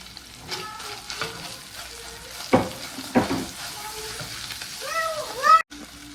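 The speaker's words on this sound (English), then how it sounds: "So while it's continuing to get that nice sear, I'm gonna place in my sun-dried tomatoes" Sausage and sun-dried tomatoes sear in a pan for shrimp jambalaya, a steady close sizzle broken by a few stirring scrapes, while a cat meows repeatedly near the end.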